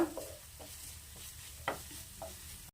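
A spoon or spatula stirs egg fried rice in a hot pan, a soft sizzle running throughout with several scraping strokes and light knocks against the metal, close and steady.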